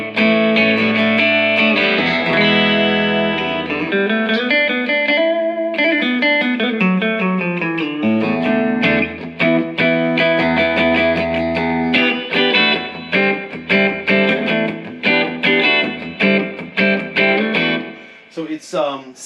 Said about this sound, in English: a little bit of slapback delay and a reverb on.